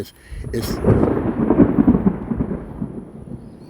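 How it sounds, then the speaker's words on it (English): A loud rumble of thunder rolls in after a sharp crack, swelling and then fading slowly over a few seconds, with light rain in the background. "y'all heard that thunder where I'm at"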